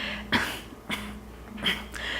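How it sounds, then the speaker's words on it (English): Several short, deliberate coughs, four quick bursts spaced unevenly, close and moderately loud. "do a little fake cough."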